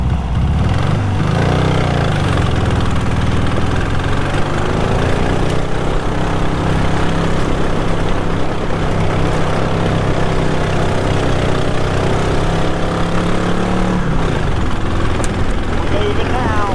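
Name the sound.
1968 Volkswagen Beetle engine running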